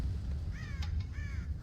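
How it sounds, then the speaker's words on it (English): Crows cawing in the Red Dead Redemption video game, two hoarse calls rising over a steady low farmyard rumble, moderately close and alone without talk. "God damn crows!"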